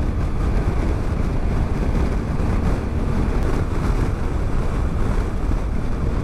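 Strong, constant wind buffeting the microphone while riding a 2018 Triumph Tiger 1200 motorcycle along the coastal Donegal section of the Wild Atlantic Way, a loud broadband roar filling the whole stretch with no speech.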